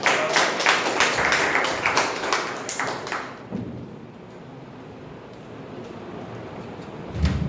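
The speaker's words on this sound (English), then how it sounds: "Can we have a round of applause for Toastmaster?" An audience claps together at a Toastmasters club meeting, a loud dense round of applause that lasts about three seconds before dying out into quiet room murmur.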